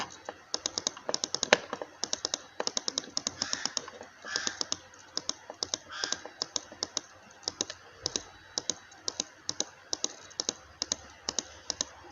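Rapid mouse and keyboard clicks at a computer while designing a party flyer in Photoshop, dozens of sharp close clicks in uneven bursts throughout, with a few brief faint background calls underneath.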